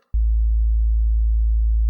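A steady low sine tone, the base for a hardstyle kick, starts with a small click and holds at an even, constant level.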